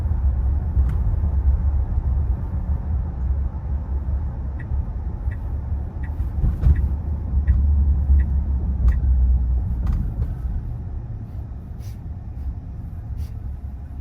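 A new Tesla Model Y electric car driving itself on Full Self-Driving, heard from inside the cabin as a steady low road rumble, with occasional faint ticks and clicks.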